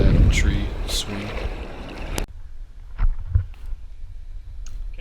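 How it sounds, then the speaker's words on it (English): Kayak paddle strokes on water near Marvin Key, with splashy swishes at the start and then softer, sparse dips and drips against light wind, and a voice briefly heard. "Back to paddling."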